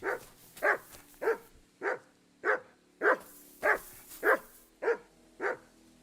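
Dog barking in the video game Kingdom Come: Deliverance II: ten evenly spaced, moderately loud woofs in a steady rhythm, with no talking over them.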